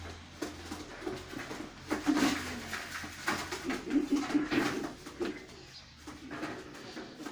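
A pigeon, a Malwai cross, coos softly several times as it is lifted by hand, close and faint with light handling noise between the calls.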